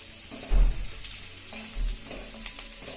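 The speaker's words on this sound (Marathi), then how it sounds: "आता मंद आचेवरती ही मिरची आपल्याला 2 मिनिटं चांगली परतून घ्यायची आहे." Green chillies sizzle over low heat in a pan, a soft frying hiss with two louder scraping thumps of a spatula as they are stirred, heard up close with no talking.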